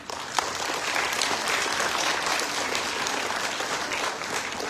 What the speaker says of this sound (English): Let us give that a big round of applause to start our event